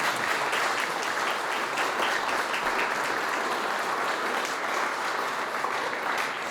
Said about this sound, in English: give them a round of applause right now